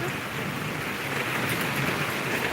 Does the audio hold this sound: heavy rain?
yes